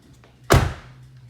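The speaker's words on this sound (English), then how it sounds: "close the door" A 2018 Dodge Charger's car door shuts with a single solid, close thunk, followed by a brief fading rumble against a quiet background.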